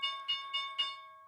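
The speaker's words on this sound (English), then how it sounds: "And there's the bell." A stock market opening bell rings in three quick, bright metallic strikes, clear and close, each decaying into a sustained ring.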